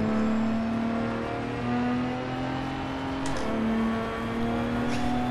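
A Ferrari 812 in the Project Cars VR racing game revs with a steady engine whine that steps up in pitch through the gears, loud and continuous, with brief clicks and no talking.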